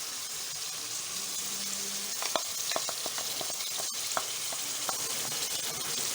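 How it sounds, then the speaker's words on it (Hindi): Mutton shank (nalli) frying in a pan with ginger and garlic for Delhi-style nihari, a steady close sizzle with scattered stirring clicks and scrapes, no talk. "गोश्त हमारा अच्छी तरह से भुन चुका है।"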